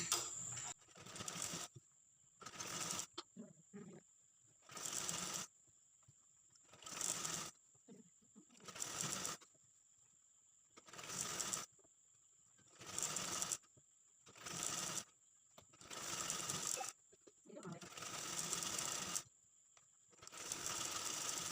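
A sewing machine stitches the lining of a blouse in repeated short bursts, each run of fast mechanical whirring lasting about a second and separated by quiet pauses, close and fairly loud.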